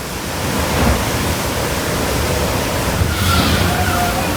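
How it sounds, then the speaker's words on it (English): Steady rushing, splashing water on the Splash Mountain log flume ride at Walt Disney World fills the clip, a loud continuous wash of spray and crashing flow with no clear pauses. "that was just the water crashing"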